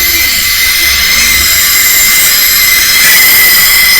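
Loud continuous rumble and high metallic screech of a train rolling along the tracks, wheels squealing steadily throughout.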